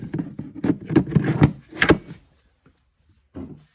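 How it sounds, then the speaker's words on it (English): Power tool batteries slide into a snug-fitting Packout case with a cluster of close scraping, clunking slides, a pause, then one more short knock. "But now I can slide my batteries in and have a nice, you know, snug fit."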